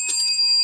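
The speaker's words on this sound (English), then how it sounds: "bell's fixed for Saturday for you" A repaired bicycle bell ringing once: a single bright, close metallic ding that sustains and rings on for most of the clip, with no talking.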